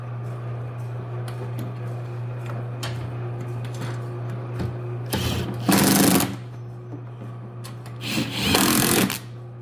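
A Coleman Powerhouse generator runs close by with a steady mechanical hum and faint ticking, interrupted by two louder bursts of broadband noise.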